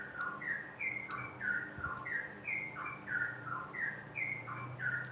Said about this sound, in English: These birds, they got their own little rhythm, their own little song